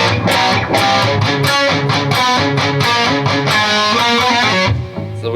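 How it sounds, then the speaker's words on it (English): Distorted electric guitar plays a series of picked notes with squealing pinch harmonic overtones and wavering vibrato, loud and up close, with no voices. "you can get a different pinch harmonic tone"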